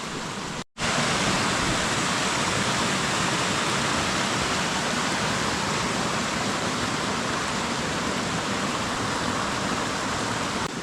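The Hreveburn stream tumbles down a waterfall in stages in the Scottish Highlands, making a steady, loud broadband rush close by, with a momentary dropout near the start.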